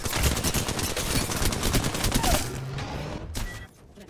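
Rapid automatic gunfire from Apex Legends gameplay, a dense burst of shots lasting a few seconds before cutting off, loud and close, with a brief spoken remark during it.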